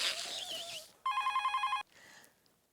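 Telephone bell ringing indoors, a single short burst of rapid electronic trilling at moderate volume, set between quieter background sounds.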